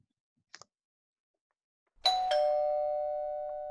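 A doorbell rings out alone after a faint click: a bright two-tone strike whose tone hangs and slowly fades, fairly close and clear in a quiet room.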